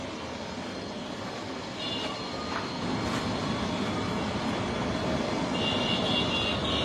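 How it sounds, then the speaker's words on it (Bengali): A helicopter descends to land at a football stadium in Mymensingh, a loud, continuous rotor and engine roar that swells slightly toward the end. "এই যে এখন হেলিকপ্টার নামতেছে"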